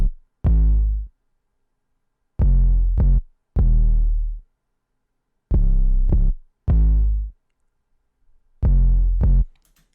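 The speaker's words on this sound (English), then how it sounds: "we have first the 808, which sounds like this." Six booming 808 bass drum hits from a trap-style beat remake, with long sustained low tails and sharp attacks, landing in an uneven rhythm with gaps between them.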